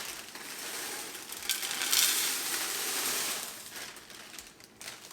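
Dry cereal pours into a storage container in a home pantry, a steady crunching, rattling rush of small pieces lasting several seconds, swelling midway then easing off, close and alone without talk.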